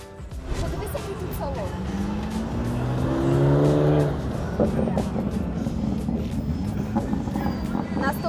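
A Ferrari sports car engine revs up, its pitch climbing sharply before dropping back, with people talking in the background at a California car festival.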